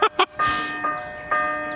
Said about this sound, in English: Can you ring the bells for me?